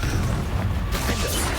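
A Confringo fire curse in Hogwarts Legacy bursts into an explosion, a loud booming blast with a crackling crash, followed by a second impact shortly after.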